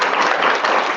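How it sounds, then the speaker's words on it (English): A brief burst of dense, steady applause from an audience honoring fifth graders at a school spelling bee, with no voices over it. "Let's give a round of applause for our fifth graders."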